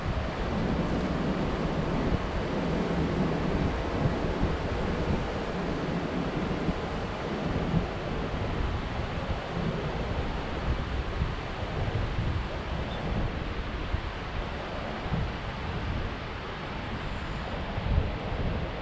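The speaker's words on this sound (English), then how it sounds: "You can walk along the shore and enjoy the sounds and smells of the Atlantic Ocean." Atlantic Ocean surf rolls steadily onto the shore beside a fortress in Rabat, Morocco, a continuous loud roar of waves mixed with gusting wind buffeting the microphone.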